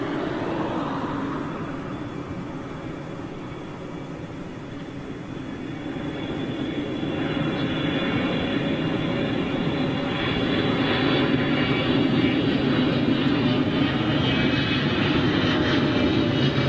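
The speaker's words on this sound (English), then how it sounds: "Emirates 777." Emirates Boeing 777-300 jet airliner at London Heathrow, a loud sustained engine roar that slowly builds and holds steady as the aircraft passes, with no talk.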